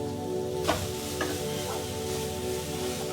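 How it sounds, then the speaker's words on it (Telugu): Vegetables stir-frying on a high flame for veg fried rice, a close steady sizzle broken by a few sharp scraping strokes of the ladle against the pan, no voices. "ఈ వెజిటేబుల్స్ హై ఫ్లేమ్లో ఒక నిమిషం మగ్గినాయి"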